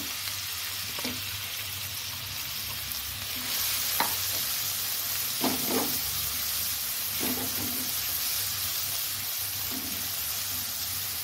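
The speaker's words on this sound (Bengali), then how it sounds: "আমি এই পেঁয়াজটা প্রথমে তেলে দিয়ে দেব।" Chopped onion dropped into hot oil in a home kitchen pan, a steady frying sizzle with occasional stirring scrapes and clinks, close and alone with no talk.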